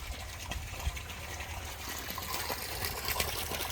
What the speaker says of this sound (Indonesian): Bisa kita lihat, ini suaranya sebelah ini sangat jernih airnya.